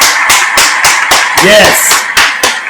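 A single person claps about eleven times in a steady, loud, close rhythm while celebrating a not-guilty verdict, with a brief voice heard partway through.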